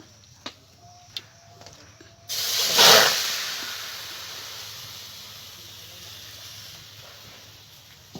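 Lote fish pieces drop into a hot wok, setting off a sudden loud hiss that swells, then slowly fades into a softer, steady sizzle, after a few light clicks.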